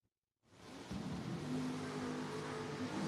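Drag race cars launch at a Spring King of the Creek meet, one a Chevrolet Nova wagon: after brief silence an engine roar rises sharply and holds as a loud, steady, growling drone, with no talking.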